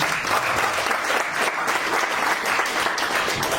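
A lively audience at a motivational seminar bursts into steady, dense applause that stays loud and even throughout, with no voices standing out above the clapping.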